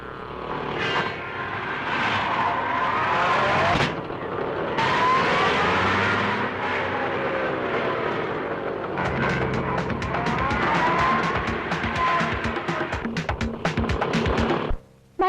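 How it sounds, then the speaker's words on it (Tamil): A car speeds along in a chase, its engine roaring loud and close in long sweeps that rise and fall, ending in a burst of rapid clattering. "சார் சார் அந்த பொறிக்க பசங்களை துரத்திக்கிட்டு கார்ல நம்ம சார் போறாரு"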